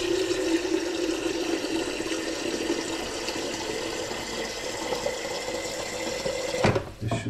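Boiled water poured from a kettle into a kitchen pot, a continuous rushing stream that runs steadily for several seconds before stopping with a brief clatter at the end.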